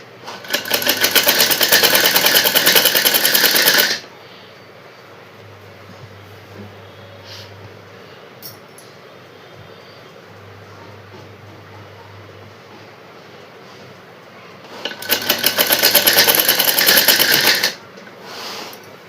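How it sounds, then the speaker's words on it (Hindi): A sewing machine sews the rounded seam of a suit with a double line of stitching, running loud and fast in two bursts at the start and end, with quieter handling of the fabric between them. "ऐसे ही हमें गोलाई में सिल लेना है और डबल सिलाई करनी है।"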